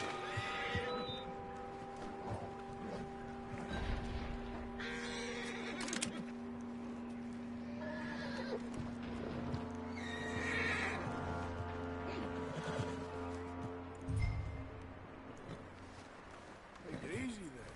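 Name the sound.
horse neighing and whinnying in video game Red Dead Redemption 2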